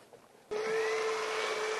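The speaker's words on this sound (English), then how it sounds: "now is the burr mixer" An immersion blender switches on abruptly after a moment of quiet and whirs steadily with a high motor whine while mixing tomato soup, close and alone.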